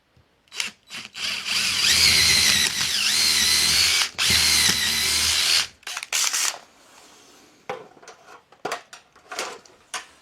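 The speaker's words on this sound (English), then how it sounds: "drill a little hole in there" A power drill whines loudly in two long bursts with a short pause between, drilling a small hole in a storage room to hang a high bay light hook, followed by scattered clicks and handling noises as it stops.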